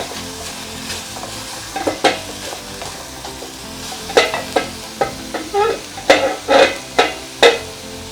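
Beef and onions being stirred in a pot for a tomato-based stew, a frying hiss under loud, close scraping strokes that come in bunches, quicker toward the end.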